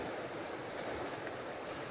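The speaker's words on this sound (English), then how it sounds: "now back to these waves" Steady rushing surf fills the air, a continuous broadband wash of waves with light wind noise and no distinct breaks.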